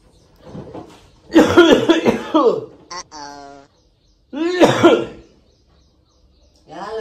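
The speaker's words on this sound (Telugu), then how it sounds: "అట్లా దగ్గుతున్నావు?" A person coughs and clears their throat in a few loud, close bursts separated by short pauses, with brief speech in between.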